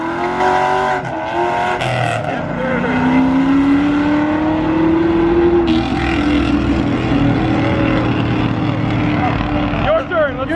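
A pro-charged pink Ford Mustang launches hard out of a car meet, its loud engine holding a steady, rising drone for several seconds while people talk over it.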